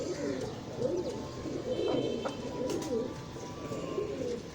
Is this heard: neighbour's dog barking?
no